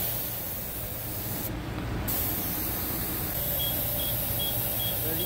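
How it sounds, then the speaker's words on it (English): Automatic air machine at a gas station inflating a car tire to 32, a continuous loud rushing hiss of air held steady throughout with no pauses. "this machine automatically will set the tire pressure to 32"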